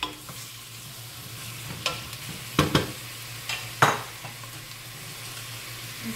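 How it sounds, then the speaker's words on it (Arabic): Tripe and lungs with intestines frying in hot oil in a pan, a soft steady sizzle beneath a few sharp clinks and scrapes of a utensil against the pan, with no talking. "نشعل النار نخليها تسخن شوية، ومن بعد نحط الدوارة مع الرية هذيك"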